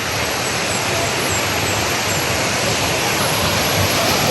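A waterfall at Lake Sebu in T'boli, South Cotabato, gives a loud, steady rushing roar of falling water that fills the whole moment without a break.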